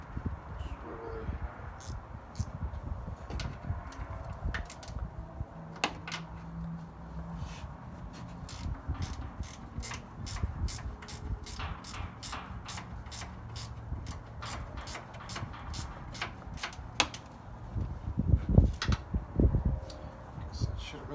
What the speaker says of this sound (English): Use my gear wrench.